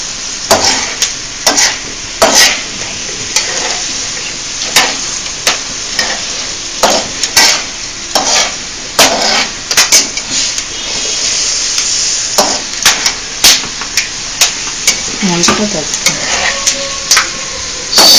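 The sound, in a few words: ingredients crackling and sizzling while frying for vegetable biryani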